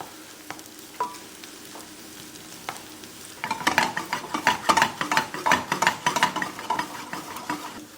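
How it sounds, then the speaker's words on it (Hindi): Onions fry in a pan, browning with a soft background sizzle that turns into busy stirring scrapes and clinks of a utensil against the pan, steady and fairly close. "प्याज को बेसिकली ब्राउन करना है"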